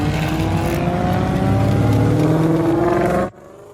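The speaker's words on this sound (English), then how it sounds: "Hop inside my truck and" A truck engine drives fast, roaring loud and steady with a rising whine as it accelerates for about three seconds, then cuts off abruptly into near silence.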